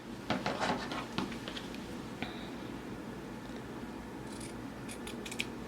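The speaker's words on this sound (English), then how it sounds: "Cut that triangle off, toss it to the side." Scissors snip through the corner of a fabric napkin with several crisp cuts close up, followed by light rustling of the cloth being handled and a few faint high clicks near the end.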